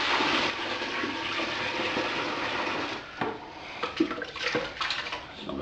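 Beer wort for an American pale ale poured hard into a fermenter over a spoon, a loud splashing gush that thins into intermittent trickles and sloshes near the end.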